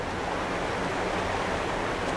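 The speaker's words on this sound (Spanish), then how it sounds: "Una cascada." A waterfall in the video game The Quarry gives a constant, dense rushing roar, steady and unbroken throughout, with no voices.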